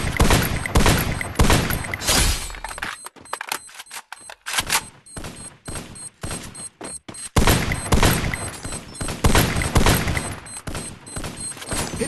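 Gunfire in a Free Fire team deathmatch, rapid loud bursts of automatic shots in dense runs with a brief lull in the middle before the shooting resumes hard.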